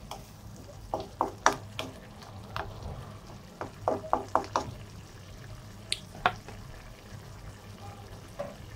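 Chicken feet cooking in a pan for adobo, with soft sizzling under scattered clinks and scraping stirs, faint and intermittent with quiet pauses between.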